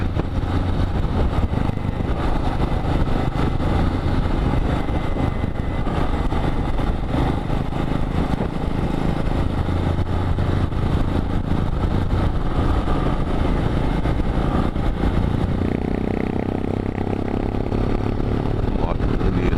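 A Yamaha XT motorcycle engine idles close by with uneven throttle blips and revs throughout, its steady low rumble continuous, while people talk over it.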